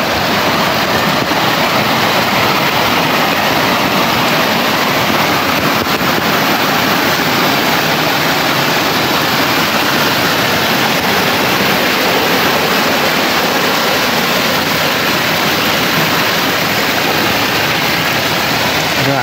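Loud, continuous rush of floodwater pouring across a stretch of road damaged by recent rain, a steady broadband roar like a small waterfall that holds without pause from start to finish.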